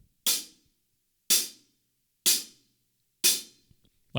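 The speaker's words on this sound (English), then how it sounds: "We're going to do the hi-hat" Four evenly spaced hi-hat strikes at a steady quarter-note pulse, each a crisp, bright chick that decays quickly into silence, close and fairly quiet with no talking.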